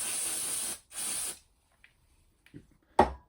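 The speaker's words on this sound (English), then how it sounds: "Some disc brake cleaner, just to the inside, underneath." Disc brake cleaner is sprayed onto a bicycle brake caliper in two short, close hissing bursts, followed by quiet and a few small knocks and clicks.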